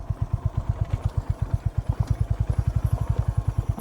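A motorcycle engine idles close by on a rough, stony road, its low chugging pulses thumping at a quick, even rhythm throughout.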